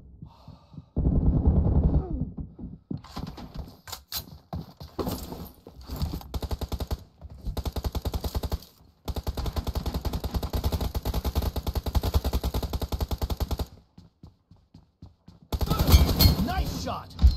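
Gunfire from the battle royale game BGMI comes in rapid automatic bursts, several long sustained strings of shots separated by short pauses, loud and close, with a voice speaking briefly between them.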